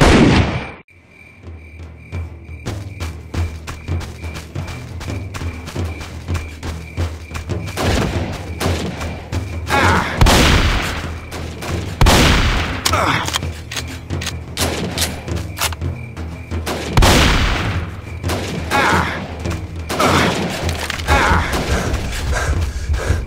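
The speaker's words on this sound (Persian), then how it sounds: "اول بهتره به اطرافشون شلیک کنیم، اینطوری ممکنه بعضیاشون از ترس فرار کنن." Gunfire volley in an animated film, starting with a loud blast and then ragged bursts of repeated shots and thuds over a steady background hum, with sharp cracks piling up in clusters.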